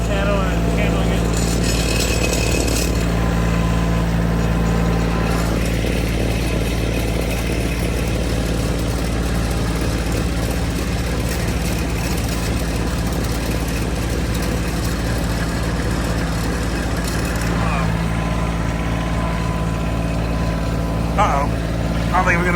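A Bobcat CT2025 compact tractor with a front bucket runs with a steady low diesel drone that holds throughout, while people talk over it.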